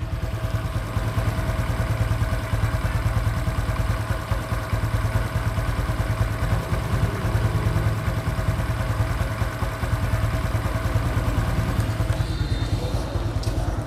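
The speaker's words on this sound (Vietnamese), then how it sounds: "bây giờ nghe tiếng máy nha" A blue 2024 Honda Dream NCX motorcycle engine idles close by, a steady even putter that runs on alone with no talk, with a slight change near the end.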